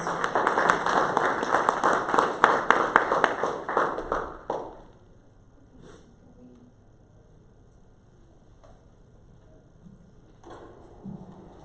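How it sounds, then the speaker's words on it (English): An audience at a STEM forum panel gives a round of applause for a speaker: dense, steady clapping for several seconds that stops abruptly and leaves a quiet hall with faint shuffles. "Let's give a warm round of applause to Mr. Reynoso."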